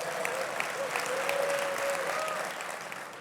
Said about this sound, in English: A warm round of applause so that they know.